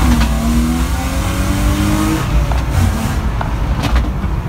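A remapped BMW E36 saloon accelerates hard close by, its rising engine note sweeping upward for about two seconds before a gear change and continued loud, rough pull with road noise.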